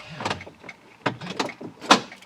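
A quick series of mechanical door lock actuations on a Toyota FJ Cruiser, several sharp clunks in succession, close and fairly loud.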